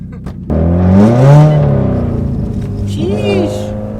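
A car fitted with Tomei exhaust headers revs loudly while drifting in snow, the engine note swelling and falling close by as people talk over it.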